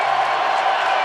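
A stadium crowd cheers at a 2000 NFL game between the Ravens and Titans in Tennessee, a dense, steady roar of distant voices filling the whole moment without any clear individual shouts.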